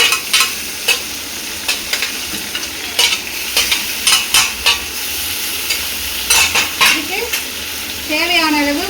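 Smashed brinjal stir-fried with asafoetida in a pan, sizzling steadily up close while a spatula scrapes and tosses in quick repeated strokes, with a brief whistling tone near the end.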